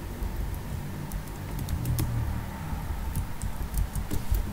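Typing on an unfamiliar computer keyboard while writing JavaScript code, with rapid irregular key clicks, close and fairly quiet, heard alone.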